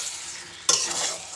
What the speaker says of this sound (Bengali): এখন আমি এগুলো দিয়ে একটু মাংসটা কষে নেব